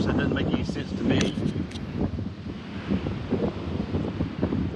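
Strong gusting wind at an open kite-flying spot buffets the microphone with a steady, loud roar and rumble that rises and falls throughout, with a voice speaking over it.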